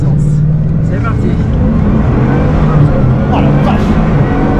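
A Bugatti Chiron Pur Sport accelerates at full power, a loud, steady engine roar with a rising drone that holds throughout, heard from inside the car with faint voices under it.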